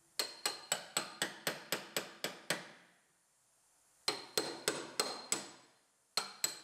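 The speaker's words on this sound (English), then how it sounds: "We'll use our breaker to break all these loose. And we'll use the wrong hammer." A hammer strikes a spot weld breaker to knock spot welds loose on the damaged B pillar of a T-boned Honda CR-V, sharp metallic blows in quick regular runs of about nine, then a pause, then another run.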